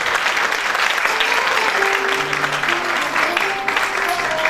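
A concert audience applauds steadily as a singer is introduced on stage, a dense, sustained wash of clapping with faint tonal music or feedback lines beneath it.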